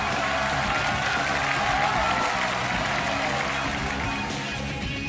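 Sustained, even applause from a television studio audience on a talent show as a contestant is welcomed, a steady wash of clapping that holds throughout without pause.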